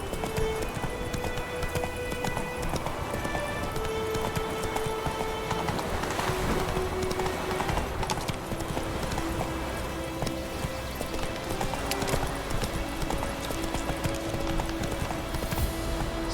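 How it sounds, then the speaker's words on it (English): Horse hooves galloping steadily in the Witcher 3 video game, a continuous clip-clop under a dense game soundscape with a faint voice now and then. "Run, Roach."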